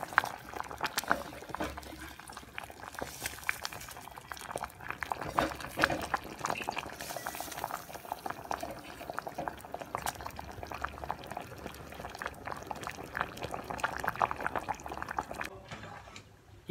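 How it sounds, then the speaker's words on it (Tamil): Moong dal kuzhambu with mudakathan greens boiling in a pot, continuous bubbling and popping close by at a low level, with a voice speaking over the boil. "இப்போது நல்லா குழம்பு கொதிச்சிட்ருக்கு."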